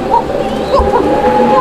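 Gobindo koka pigeons cooing close by, a pair of soft low coos repeating over steady background noise.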